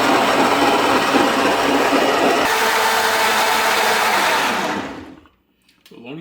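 A blender purees carrots for Jamaican carrot juice in a loud, steady whir with a grinding texture that changes pitch partway through, then cuts off into near silence before a brief faint noise.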